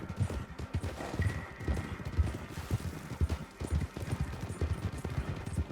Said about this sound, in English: So I can jump onto a friend's horse, and I can ride on the back